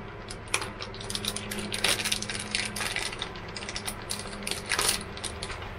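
Small metal screws and washers for mounting a TV in an RV bedroom, jingling and clicking as they are sorted by hand, with repeated close, bright clinks like dropped coins.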